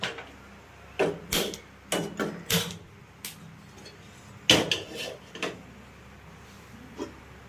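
Metal cookware clanking in a home kitchen as a pan is set on the stove for cauliflower curry, a series of sharp, separate knocks and clatters, close and fairly loud, spaced irregularly with quiet gaps.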